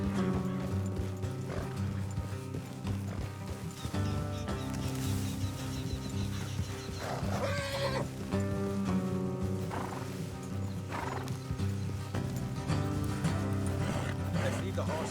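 Horses in Red Dead Redemption 2 clopping their hooves with an occasional whinny, set against steady game music and voices talking throughout.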